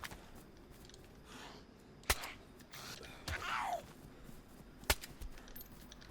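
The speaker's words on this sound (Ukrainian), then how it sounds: "Хто стріляє з глушителя?" Suppressed gunshots in the video game DayZ: two sharp, isolated cracks a few seconds apart, with faint movement and ambient noise in between.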